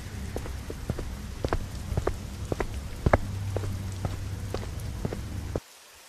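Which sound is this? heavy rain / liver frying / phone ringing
heavy rain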